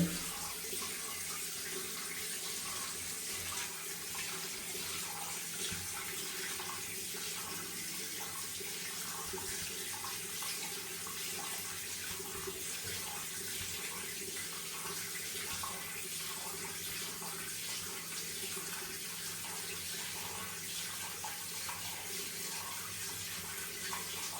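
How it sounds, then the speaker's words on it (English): Water runs steadily from a tap, a continuous hissing splash as something fills up, constant in level without any talking. "We are filling it up with water."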